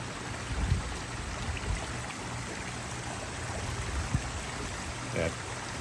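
Water flowing down through granite boulders into a garden pond stream, a steady broadband rushing trickle close by, with faint voices underneath.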